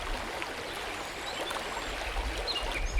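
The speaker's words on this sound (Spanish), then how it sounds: "El sonido del agua al chocar contra las rocas se mezclaba con el rugido resonante." Turbid, turbulent water of the Mara River rushing and breaking against rocks: a steady, broadband wash of noise with no pauses, moderately loud and close.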